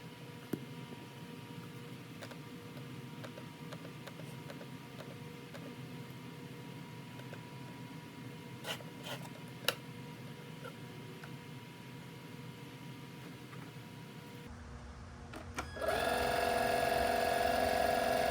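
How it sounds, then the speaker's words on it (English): Etenwolf Vortex S6 air compressor pump inflating a ball, a steady mechanical hum and buzz running throughout, shifting to a louder, higher-pitched whine near the end. "see if I can configure the pump to that pressure level and see if the pump will blow the ball up"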